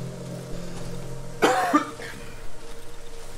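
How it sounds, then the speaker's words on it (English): A single harsh cough from a person, with a brief follow-up rasp and faint breathy sounds afterward, close and fairly loud over a quiet room hum. "Apologies for my coughs today."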